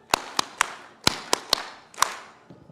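Seven sharp hand claps from a single person at a Uganda AIDS Commission session, spaced unevenly over a couple of seconds, crisp and fairly close with a faint room echo.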